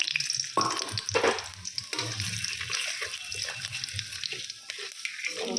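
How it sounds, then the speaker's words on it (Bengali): Whole spices for a tempering, added all at once to hot oil, sizzle with a steady, loud hiss that runs close and unbroken for the whole stretch, with no one talking over it. "ফোড়নটা সব একসঙ্গে দিয়ে দিচ্ছি।"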